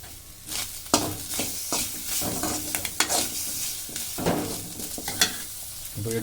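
Ingredients for vallarai keerai rice being sautéed in a pan: busy stirring with repeated spoon scrapes and knocks over a sizzling bed, close and fairly loud, rhythmic but irregular, no speech.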